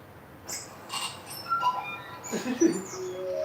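A person imitates a bird call with several short high squeaks and chirps, scattered and close, over a quiet background.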